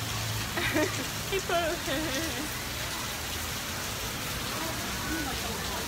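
Rain falls on a street in Taipei, a steady broadband hiss of drops on pavement that runs through the whole stretch, with brief voices rising over it near the start.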